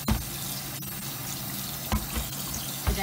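Tap water runs into a kitchen sink while chicken salad with bowtie pasta is being prepared, a steady rushing flow with a few clunks and knocks.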